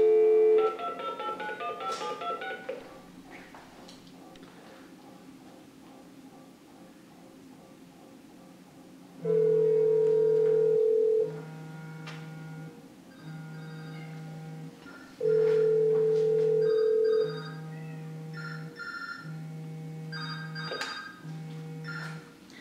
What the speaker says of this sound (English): So you can see that we could actually call the phone.